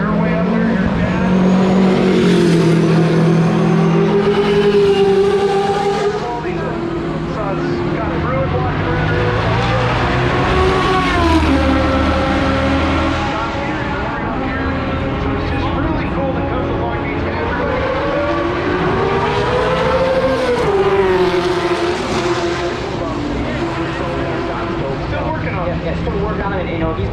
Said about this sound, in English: Little John Patera car running out there